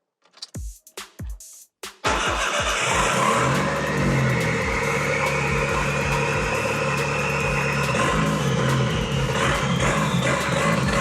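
A turbocharged 2.3-litre Ford Ranger engine cranks in a few short bursts, fires up and runs loud and steady, with rising whine and revving as the throttle is opened, and no talking.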